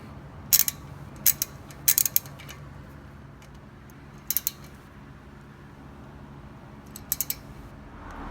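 Clicking of a 14mm ratchet tightening the brake caliper bolts on a 2011-2015 Honda Odyssey EX-L, arriving in short bursts of sharp clicks with pauses between them, close and fairly quiet.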